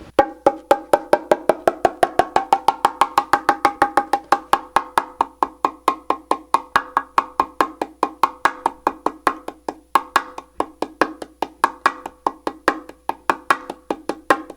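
Bongos play a fast, steady stream of muted slaps made with a pressed thumb, each a short damped pop, continuing evenly and loud throughout with no voices.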